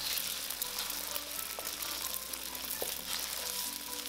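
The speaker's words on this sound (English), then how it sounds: "Add the eggs. And scramble until it is partially cooked." Eggs scramble in extra light olive oil in a wok over high heat, a loud, steady close sizzle with scattered pops and occasional scrapes of the spatula against the metal, and no talking.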